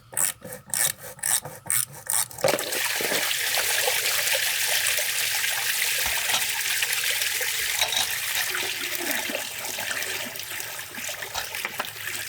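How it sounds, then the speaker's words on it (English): Water gushes steadily from an opened swimming pool filter drain plug, a loud continuous rushing flow that follows a few brief scraping knocks as the plug is worked loose. "When you take this plug out, it's going to look like you're draining your swimming pool"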